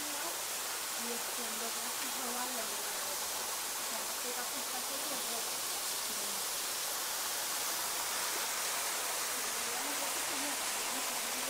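Steady broadband rush of a waterfall in Valle del Lunarejo, continuous and fairly close, with soft voices briefly under the roar.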